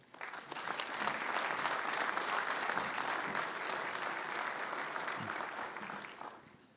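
An audience at a university memorial service applauds to welcome Mike Hamrick, with steady, full clapping that swells quickly, holds for several seconds and then fades.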